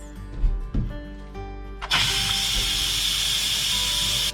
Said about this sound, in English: Now you're going to put the lid on the Instant Pot. And cook on manual for 5 minutes. Have the parents do quick release.